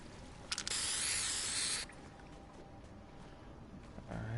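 A hissing spray burst in a video game, loud and close, lasting over a second and then cutting off into a quiet background.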